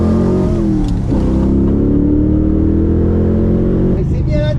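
A Porsche engine revs hard and accelerates up close, a loud droning roar with rising pitch that holds steady, then eases as people start talking over it near the end.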